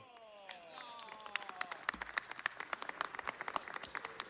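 Applause for a mariachi-style singer performing a famous Mexican song at a Los Angeles city council meeting: scattered hand claps building into a dense round of clapping, with a fading sung or instrumental tone at the start.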